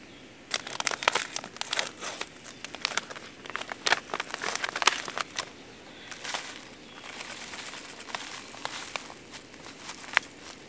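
A food packet crinkles as it is torn open and its contents are poured into a pot of water on a solo camping hike in the woods near Tarusa, with bursts of rustling over roughly ten seconds in quiet outdoor air.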